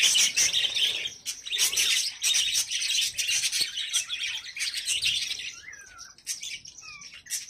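Many small pet lovebirds chirp and tweet busily close by, overlapping high calls with a few brief gaps and some rising whistles near the end.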